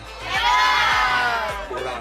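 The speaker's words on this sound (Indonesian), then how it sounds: "Kalau Pak Imam teriakan Akmala, jawab dengan hebat" A crowd at an anti-drug awareness event shouts a response together in unison, a loud, swelling collective cry that rises and then fades, with another brief shout near the end.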